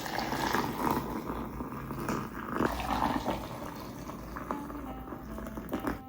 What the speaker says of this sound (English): Then just add the boiling water.